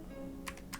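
A few light taps on a computer keyboard while typing Python code, quick soft clicks in two small bursts over a quiet background hum, close and faint.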